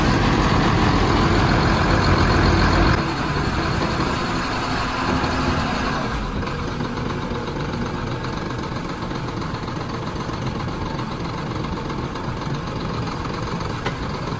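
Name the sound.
borewell drilling rig truck engine idling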